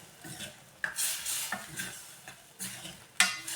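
A spoon scrapes and stirs through a thick, sizzling cluster bean curry with gram flour in a pan, with irregular clanks against the metal.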